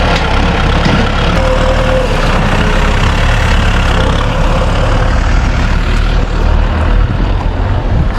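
Tractor engine idling close by on a farm drive, a loud, steady low rumble with constant mechanical chatter and no pauses.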